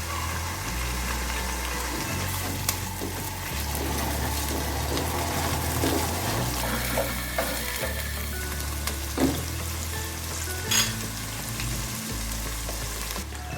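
Chopped onions fry in a pan for chicken kabsa, making a continuous moderate sizzle with occasional scraping stirs and small clinks over a low steady hum from a nearby appliance, with no talking.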